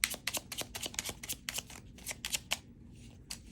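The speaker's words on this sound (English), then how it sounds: "let me shuffle, because that way I know that the same cards won't come out" Tarot cards shuffled by hand, a rapid series of crisp papery riffles and slaps in quick uneven bursts, close and clear, with a brief pause near the end.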